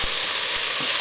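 Onions frying in a hot pan after browning lamb, a dense, even hiss of sizzling with faint soft knocks underneath, close and continuous with no speech.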